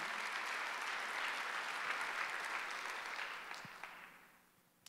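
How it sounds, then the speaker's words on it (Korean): A church congregation at a Sunday worship service breaks into steady, full applause that holds for a few seconds, then thins out and fades to near silence. "박수하세요"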